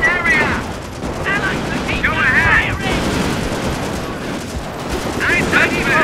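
Sustained machine-gun fire and explosions roar through a Company of Heroes battle set in the Battle of the Bulge, loud and continuous, with soldiers shouting over the din.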